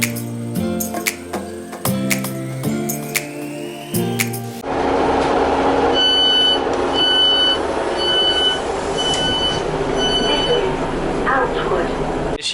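Class 91 electric locomotive 91.119 'Intercity Swallow' arrives at a snowy Outwood station: loud tonal horn-like notes give way to a heavy, continuous rumble with high metallic squeals rising and falling, close by.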